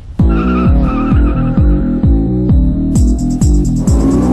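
A car drifting on brand-new wide tyres, engine revving in hard rhythmic pulses close by while the tyres squeal, with a sharper high screech breaking in near the end.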